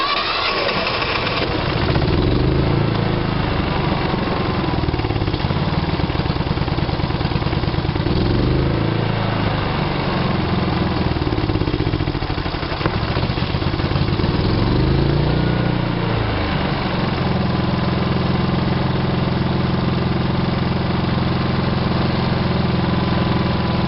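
A Kipor Sinemaster 6000 generator with auto throttle runs nearby, its engine chugging loudly and steadily, the pitch and load shifting slightly as it settles into a lower, smoother drone.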